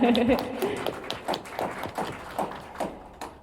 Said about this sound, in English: Yes, a round of applause for Professor Homa.